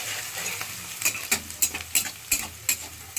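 Onions fry in a pan, a close sizzle punctuated by a series of sharp rhythmic stirring scrapes in the latter half.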